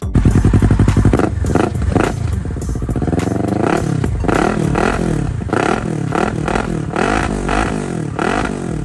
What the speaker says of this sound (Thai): มาเดี๋ยวเรามาลองฟังเสียงท่อรีมิวกับเวอร์ซิตโอกาศูนย์คันนี้กัน